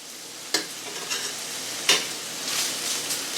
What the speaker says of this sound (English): So I'm going to let this sizzle